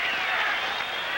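Crowd of 50,000 at Tampa Stadium roaring during an NFL football game, a steady, loud wash of cheering noise with no breaks across the moment.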